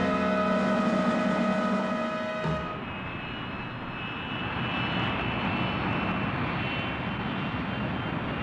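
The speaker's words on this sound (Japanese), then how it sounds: "あのヘリコプターは確か一度見たことがある。" An aircraft engine drones steadily and loudly throughout, a continuous whirring roar with a brief musical tone fading out early on, in an animated Mach GoGoGo race scene with a helicopter flying overhead through a mountain pass.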